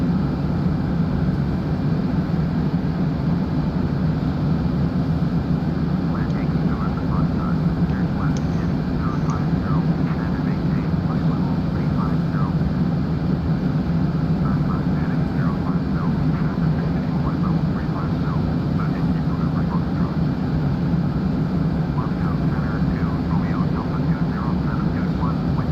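Jet engines of a Tupolev Tu-144D supersonic airliner in flight sim FSX roar in a steady, unbroken drone with a faint chirping tone on top, continuous and even throughout.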